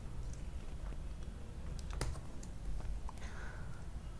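Keys on a computer keyboard tap in a few faint, scattered clicks, spread thinly over a steady low hum and background hiss.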